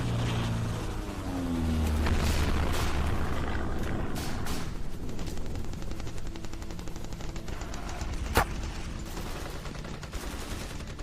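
An M60 belt-fed machine gun, adopted in 1957, fires in a sustained loud roar of rapid bursts that blur into continuous noise, with one sharp report standing out near the end.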